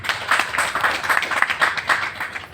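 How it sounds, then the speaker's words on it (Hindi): An audience applauding for Parul at a gathering, a dense stretch of many hands clapping in uneven bursts, fairly loud and close, without speech. "पारुल के लिए आप लोगों को ताली बजाने चाहिए"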